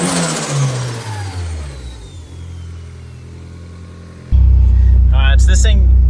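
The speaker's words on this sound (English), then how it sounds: "It sounds like it's making boost, just revving it." A turbocharged Honda Civic engine revs and then winds down, followed by a sudden louder, deeper engine roar with a few whistling turbo spikes; the sound is close and loud.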